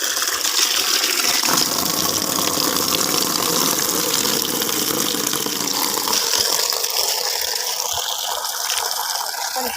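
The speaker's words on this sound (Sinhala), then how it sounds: "අනිත් අපි බලමු වතුර ටික බහින නවත්තමු." Water drains in a steady, loud gushing rush from a home fish tank holding a pair of fish, continuous and close for the whole stretch with no talking.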